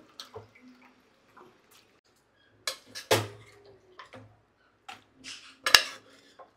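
Mutton is moved into containers, with scattered clinks and clatters of utensils and lids against dishes, a few sharp knocks standing out among quiet pauses.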